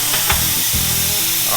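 Close, steady crackling hiss of welding on a steel bumper for an FJ45 rock crawler, dense and continuous for the whole short stretch, with no talking.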